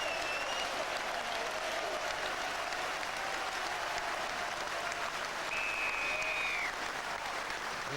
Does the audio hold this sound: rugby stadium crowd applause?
yes